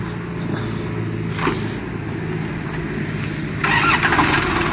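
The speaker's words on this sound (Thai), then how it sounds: "ประมาณนี้เดี๋ยวลองติดเครื่องให้ดู" A Kubota L1-265 four-wheel-drive small tractor engine cranks and catches near the end, settling into a louder, steady idle over a low background rumble.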